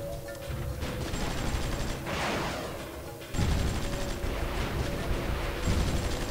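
Artillery fire in the strategy game Supreme Ruler 2020, a continuous rumbling barrage of overlapping distant blasts that swells louder partway through and keeps pounding steadily.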